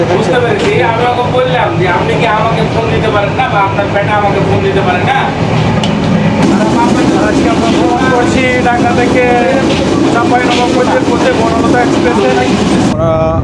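A semi-high-speed intercity train travelling nonstop from Dhaka toward Rajshahi rumbles and clatters loudly and steadily along the track throughout, with someone speaking over the noise.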